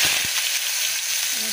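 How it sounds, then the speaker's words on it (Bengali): Potatoes frying in a small wok, a loud, steady hiss of hot oil close by, with a few low knocks at the start. "আলু ভাজাটা করে দিই।"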